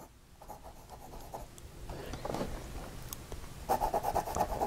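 A fine-nibbed Hero fountain pen in dark yellow celluloid scratches softly across paper in close, faint strokes, growing slightly busier and louder toward the end.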